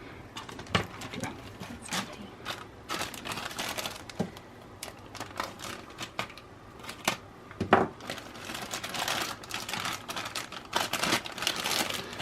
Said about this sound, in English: Just unload all the parts. Okay. Make sure no little parts break off and are left inside the bag.